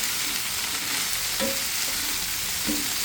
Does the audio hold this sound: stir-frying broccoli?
yes